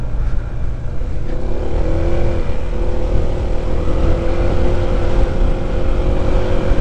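A Honda ADV 160 scooter pulls hard at full throttle on a wide one-lane road, a steady close engine drone with rising tonal whine running continuously under heavy wind rumble.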